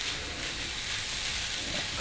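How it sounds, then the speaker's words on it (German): Yakisoba noodles frying in a hot pan, a steady, dense sizzle that holds evenly throughout without pauses or voices. "Jetzt kommen die Nudeln dazu. Dann lassen wir die kurz mit anbraten."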